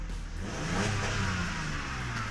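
A Mercedes W210 engine on its original, unmodified exhaust revs steadily up and back down, a close, continuous mid-range drone with no talk over it.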